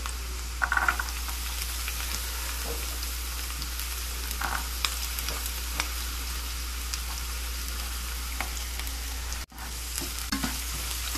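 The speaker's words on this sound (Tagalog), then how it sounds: "Halo-haloin lang natin hanggang brown ulit." Garlic sautéing in a pan for ginisang pechay with pork makes a continuous, even sizzle, with a few soft stirring scrapes under a low steady hum.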